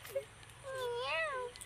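A voice imitates a cat's meow, giving a short squeak followed by a longer wavering mew, faint and recorded indoors over a steady low hum.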